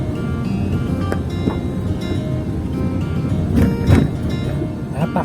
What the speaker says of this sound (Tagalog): Ganito ngayon sa Pilipinas pag umuulan.